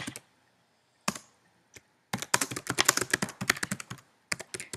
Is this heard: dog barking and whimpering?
no